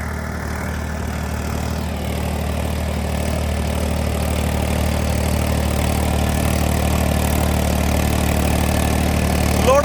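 A Swaraj 855 tractor idles at a steady, continuous throb, close and fairly loud, its even drone holding for the whole stretch with no speech over it.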